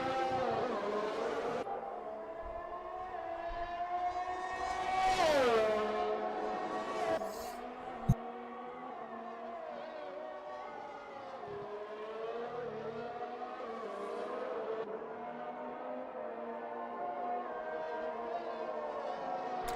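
A McLaren race car lapping a circuit in a racing video game at the Austrian Grand Prix, its high engine note climbing and falling through gear changes, with one sharp click partway through.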